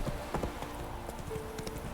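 Roach the horse trotting in The Witcher 3, a quick rhythmic clip-clop of hooves at moderate volume over a low ambient game background.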